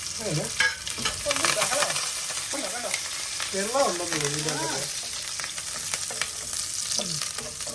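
Mustard seeds, curry leaves and garlic fry in hot oil, a steady close sizzle with crackling pops and spatters, while a stirring spoon scrapes through it and a voice pitches and warbles in a few bursts.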